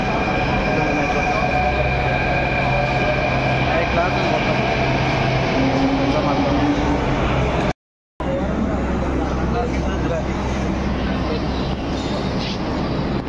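Steady rumble of a Hyderabad metro train in motion, with a continuous whine and hum inside the carriage; a voice speaks briefly over the noise.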